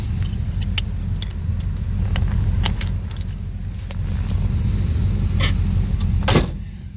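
Steady low rumble from inside an older car on the road, with light rattles and jingling keys over the engine and road noise, close and continuous, with no talk.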